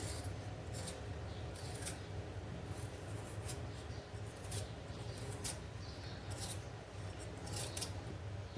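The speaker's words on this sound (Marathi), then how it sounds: "बटाट्याचे भजी करायला मी दोन बटाटे घेतलेत सोलून घेणार आहे" Potatoes being peeled by hand for fritters, a steady scraping and rasping with short brighter strokes repeating across the whole stretch, close and fairly quiet, with no voices.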